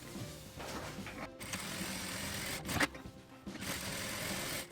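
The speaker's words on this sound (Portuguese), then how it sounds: "eu vou passar uma costura nas duas laterais, uma costura de segurança, aqui e aqui, pra deixar o forrinho aqui fixo" A sewing machine running a safety seam along both sides of a zippered toiletry bag lining, faint steady mechanical whirring in bursts with brief pauses between runs.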